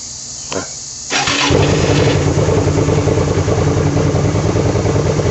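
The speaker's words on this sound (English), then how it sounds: "Let's try the starter." A Hyosung GV250 motorcycle's electric starter cranks briefly, then the engine catches and settles into a loud, steady close-up idle that continues to the end.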